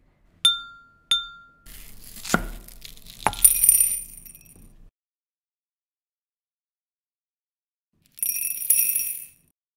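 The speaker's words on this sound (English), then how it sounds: "The ASMR here is a combination of tapping a glass with a knife, squishing slime, and chopping a real melon." Knife tapping a glass in a few bright clinks, then wet squishing of slime, crisp chopping of a real melon, and a final burst of clinking, close and isolated with silent gaps.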